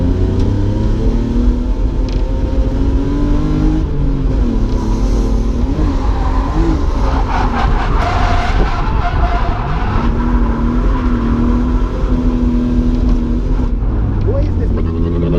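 A drift car's engine at Driftland UK drones loudly and continuously, its pitch rising and falling with revs, heard from inside the car with voices partly buried beneath the engine.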